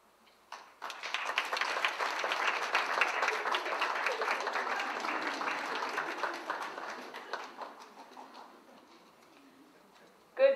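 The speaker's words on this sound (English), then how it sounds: "How about another round of applause for them?" An audience claps after a Shen Yun performing arts show in Calgary, with a round of applause that swells, holds steady for several seconds and then fades. A brief voice follows at the very end.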